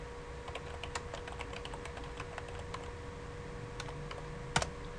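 Fast, irregular typing on a computer keyboard, with a steady stream of close, light key clicks and a slightly harder tap near the end, over a quiet hum.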